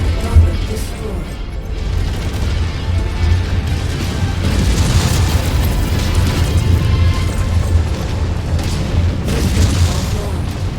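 In the MechWarrior 5: Mercenaries video game, an enemy mech explodes: a sustained heavy boom and crashing rumble with layered game effects and radio voices, loud throughout.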